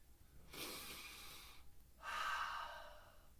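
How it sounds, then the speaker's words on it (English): One deep breath is drawn in through the nose, followed after a short pause by a long, audible exhale through the mouth, close and soft. "take a deep cleansing breath"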